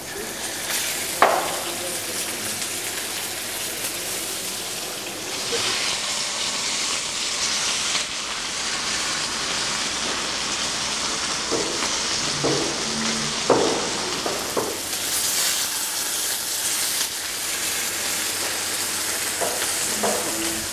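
Salmon seasoned only with salt sears in a very hot wok, giving a steady loud sizzle and hiss that runs throughout with occasional stirring clatter.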